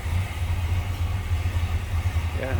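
A 1983 Chevrolet Monte Carlo SS with converted AC idles low and steady, its deep exhaust rumble holding close and even throughout, with a faint hint of a voice near the end.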